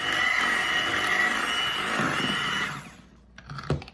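An electric hand mixer whirs steadily through a fruit dip, a loud continuous buzz that cuts off near the end, followed by a few soft clinks and knocks.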